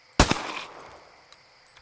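A single sharp gunshot rings out in the survival video game Survive the Nights, loud and close, then decays into a fading tail with a faint click afterward.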